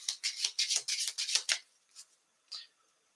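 A deck of Tomb Raider trading cards riffled and shuffled by hand, a quick run of close rasping bursts followed by two separate softer shuffles after a pause.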